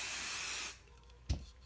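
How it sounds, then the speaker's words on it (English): A can of 505 temporary adhesive spray gives a steady close hiss for most of a second, aimed at embroidery stabilizer while prepping a shirt, then stops, followed by a short soft knock. "And then spray another layer"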